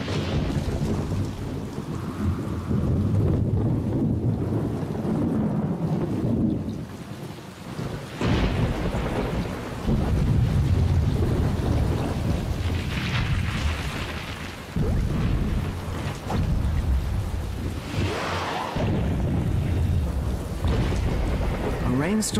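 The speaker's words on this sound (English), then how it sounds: "A rainstorm can be deadly." Thunder rumbles in long, heavy rolls over steady falling rain during a thunderstorm, with several loud surges and sharper cracks standing out above the constant downpour.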